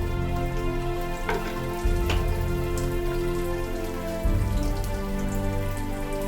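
Mustard seeds and cumin sizzle in hot oil for curd rice, a dense crackling spatter like rain on a surface with a few sharper pops, close and steady with no talking.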